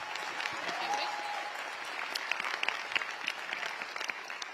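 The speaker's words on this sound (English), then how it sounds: "Everybody give him a round of applause." Audience applause at a Q&A event, a steady wash of many hands clapping with scattered sharper claps near the front, continuing evenly at moderate loudness for several seconds.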